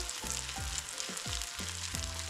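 A zucchini cake layer fries in an oiled pan, giving a steady close sizzle with several soft rhythmic scraping or flipping thuds, no voices.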